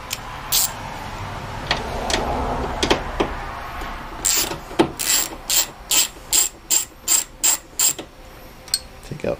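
A ratchet loosens a 10 mm bolt on a Mazda Miata fuel tank cover, starting with scattered clicks and clanks, then settling into a loud, close, regular run of about ten ratcheting bursts.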